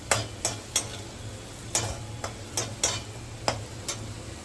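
Grated ginger sizzles softly in a pan while a utensil clinks and scrapes against it every half second or so, a quiet steady kitchen rhythm.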